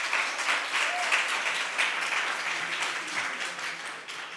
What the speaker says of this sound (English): May we give Prof a round of applause.